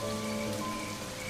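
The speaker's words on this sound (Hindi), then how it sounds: "इतनी बारिश को भी आज ही आना था।" A brief, dense wash of heavy Serengeti rain, continuous and fairly loud, with droplets drumming evenly throughout and no talking.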